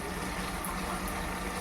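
Water rinsed from a marinade bowl poured into a cooking pot of fish biryani, a steady close splashing gurgle running throughout with no talk.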